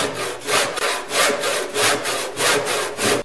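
A hand saw cuts through Douglas fir timber in a steady series of about six rhythmic rasping strokes, loud and close, with no talk.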